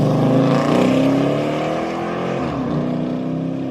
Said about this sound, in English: the Dodge Charger's exhaust isn't my favorite